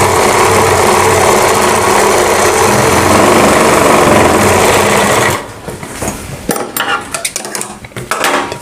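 A sewing machine runs loud and fast for about five seconds, stitching the upper seam of a kanchli blouse in one continuous rattling burst, then stops, leaving light handling clicks and rustles of fabric.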